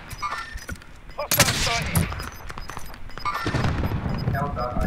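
Bursts of gunfire during a Call of Duty Warzone quads battle royale match, sharp repeated shots with a loud cluster near the middle and more firing later, mixed with game sounds and voices talking over it.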